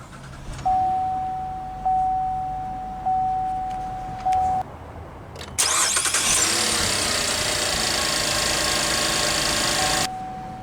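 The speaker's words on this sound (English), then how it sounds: "let's go ahead and start the engine, and along with smart key, it does have push button start" A 2019 Chevrolet Impala Premier with push-button start gives a few repeated electronic chimes, then the engine cranks, catches and settles into a steady, smooth idle with the chime returning near the end.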